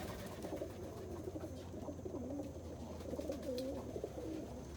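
Pet pigeon cooing at a loft feeder, soft repeated low coos rising and falling over a steady background hum, continuous and moderately close.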